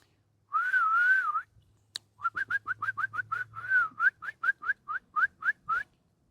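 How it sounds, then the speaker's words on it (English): A person whistles alone in a quiet forest, one long wavering note followed by a run of short, quick chirping whistles, close and clear with a single sharp click between. "I'm not a very good whistler, so it's probably going to be bad"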